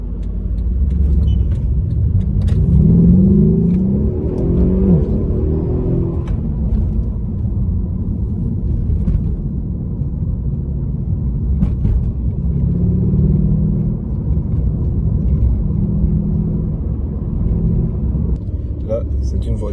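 A Mercedes CLS 63 AMG pulls away after a U-turn, its engine rumbling deep and loud as the car accelerates, with a person talking over the engine noise inside the cabin.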